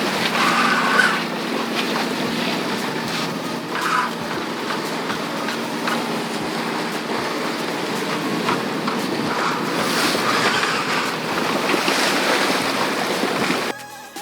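A 30 ft sailboat motoring through swells, steady engine drone under rushing water and wash from the hull, continuous and close for the whole stretch before cutting off abruptly at the end.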